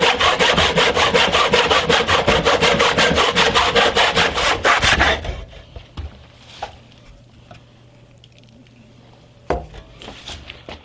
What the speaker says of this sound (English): I can remove material easily because I can really get the weight of my body behind the chisel